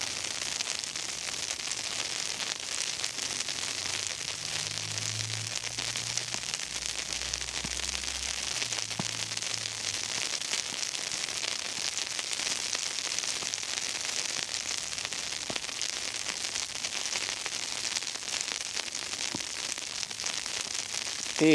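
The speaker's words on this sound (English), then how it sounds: "It's a mix of sleet, rain and snow," Sleet mixed with rain and snow falling on a snow-covered street in South River, New Jersey, a steady dense hiss that stays constant and even throughout, with faint low rumbles from something passing in the distance.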